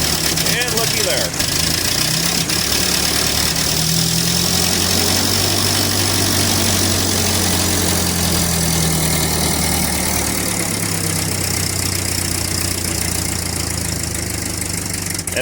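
An old engine, cold-started on choke, settles into a steady idle with a slightly uneven, knocking pulse. It runs loud and continuous at close range, with a shift in pitch partway through.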